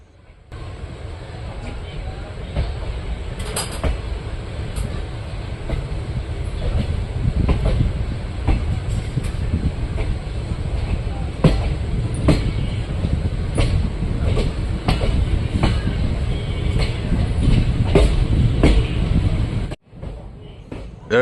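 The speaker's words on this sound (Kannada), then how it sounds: "ನಮ್ಮ ಟ್ರೈನ್ ಈಗ ಹೊಳೆ ನರಸೀಪುರ ರೈಲ್ವೆ ಗೆ ಅರೈವಲ್ ಆಗ್ತಿದೆ" A Shivamogga–Mysore train rumbles and clatters continuously into Holenarasipur railway station, with rhythmic wheel clicks and occasional squeals, loud and close throughout.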